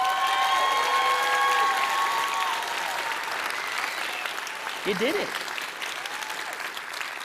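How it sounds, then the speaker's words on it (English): Demo day audience applause for startup founders at a Techstars Impact event, a dense round of clapping that gradually thins and softens over several seconds while a voice speaks over it. "let's give these founders, not just me, another round of applause."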